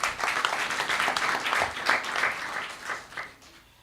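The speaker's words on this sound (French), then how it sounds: "Est-ce qu'on peut applaudir pour notre pays?" Audience at a digital economy event clapping, a short burst of dense, fairly close applause that swells and tapers off within a few seconds.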